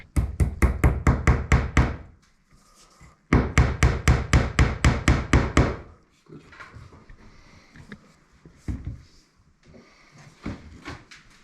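Hammer blows driving a nail into wood, two fast bursts of about nine sharp strikes each, loud and close, followed by quieter scattered knocks and handling noise.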